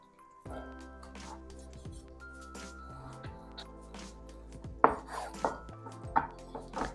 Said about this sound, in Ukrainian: Тепер потрібно відрізати все лишнє і також нарізати шматочками.